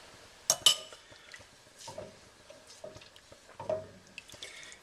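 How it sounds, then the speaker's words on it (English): A spoon stirs smokey BBQ sauce with espresso in a pot, giving a few clinks and scrapes against the metal with light wet sloshing, close and intermittent, and nobody speaks. "Let's give that a bit of a stir."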